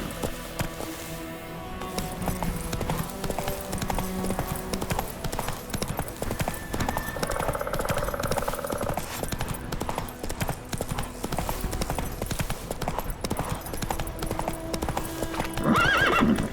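Hooves pound in a quick, continuous gallop as a horse in The Witcher 3 charges along amid game music, with a loud neigh breaking out near the end.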